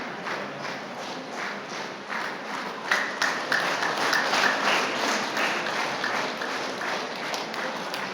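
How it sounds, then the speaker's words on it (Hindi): An audience at a trade union federation event in Pasighat, Arunachal Pradesh, keeps clapping in a thick continuous wash of applause that swells slightly partway through, close and loud throughout. "जोर से ताली बजाओ।"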